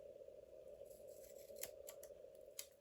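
Scissors snipping through paper to cut it in half for a journal page, a few quiet crisp snips over a steady low background hum, close and faint.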